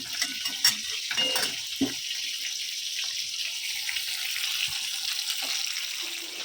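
Steady sizzling of fish frying in a pan, a soft continuous crackle with occasional clinks of a utensil against metal.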